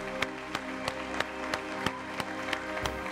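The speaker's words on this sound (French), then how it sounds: "Applaudissements pour Karel Dablé, s'il vous plaît." Applause from a crowd for a contestant at a televised elimination result, a run of evenly spaced claps with a faint murmur behind them, moderately near.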